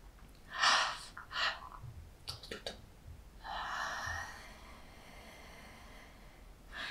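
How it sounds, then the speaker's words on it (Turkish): Several audible breaths, sharp inhales and slower exhales, close to the mic with short pauses between them and no talking. "iki tane nefes alıp"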